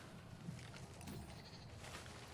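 A goat bleats in the New World video game, a couple of faint, wavering calls over a low, steady game ambience.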